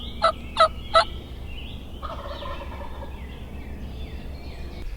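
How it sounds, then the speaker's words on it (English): A wild turkey gobbles from its roost at dawn, three loud, rattling gobbles in quick succession at close range, followed by quieter morning ambience and faint birdsong. "We probably were within 75 yards when he gobbled the first time off the roost."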